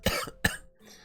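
Two sharp, close coughs in quick succession, the second slightly stronger, followed by a faint throaty breath.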